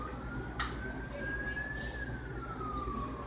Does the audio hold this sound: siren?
yes